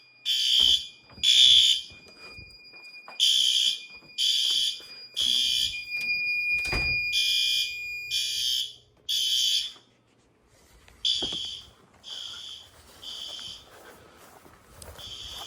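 A building fire alarm sounds during monthly testing of the alarm, generator and emergency systems, a loud repeating electronic tone in evenly spaced bursts, with one sharp clunk midway and a softer, more irregular pattern afterward.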